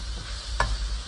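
Shrimp and vegetables with garlic stir-frying in a hot wok for gluten-free shrimp fra diavolo, a steady close sizzle with one brief clack of a utensil partway through.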